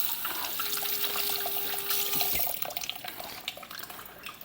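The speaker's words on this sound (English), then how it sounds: "Rinse off the fingers one more time." Tap water runs into a kitchen sink while fingers are rinsed during meatloaf preparation, a steady close splashing stream that stops partway through, leaving lighter drips and handling noises.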